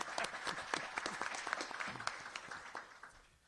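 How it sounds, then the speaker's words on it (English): Audience applause for a panelist at an interreligious panel discussion, a few seconds of dense clapping that tapers off and fades toward the end. "You can applaud."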